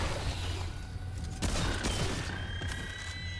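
A lever action rifle fires in the video game Remnant 2, with a sharp shot followed by a few more cracks and mechanical clacks over a steady ambient game hum.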